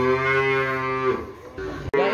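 Limousin cattle in a farm pen let out a loud, close, drawn-out moo that wavers and then trails off, followed by a brief second low call, with no talking.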